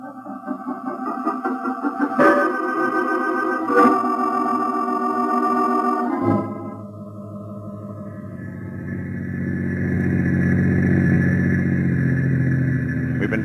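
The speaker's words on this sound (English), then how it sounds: "We've been driving some time" A car drives along as a sound effect in a 1940s-era espionage radio drama, entering as a steady, rising engine rumble after a few seconds of dramatic music, with no voices.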